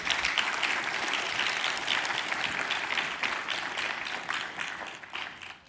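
A lecture audience applauds to welcome Professor Wickelgren before her mathematics talk, a steady wash of clapping from many hands lasting several seconds and fading slightly at the end.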